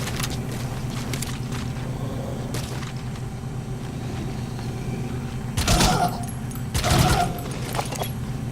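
Covering gunfire in Metal Gear Solid V: The Phantom Pain: two loud, short volleys of distant shots about a second apart, set against a low rumbling background.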